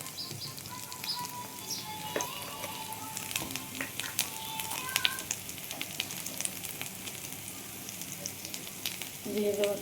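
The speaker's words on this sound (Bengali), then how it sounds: "ভালোভাবে কষিয়ে নিচ্ছি" Spiced duck egg curry sizzles and fries steadily in a pan while being sautéed with salt, red chilli powder, sugar, turmeric and coriander powder, with occasional stirring scrapes and faint background noises.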